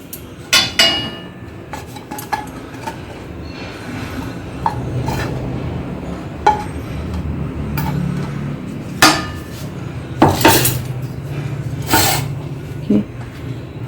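Cooked poha mixture transferred onto a metal plate, producing a series of sharp metallic clanks and scrapes spread irregularly over a steady background hum.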